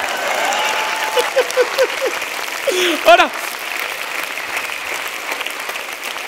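An audience at a German comedy stage show applauds throughout, a dense, steady patter of many hands. A voice speaks over the clapping with short exclamations.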